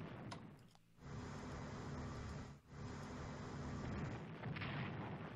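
Artillery bombardment in the World War II strategy game Strategic Command World At War: a dense, sustained rumble of booming fire fills the clip, with one brief dip midway before the barrage resumes at full strength.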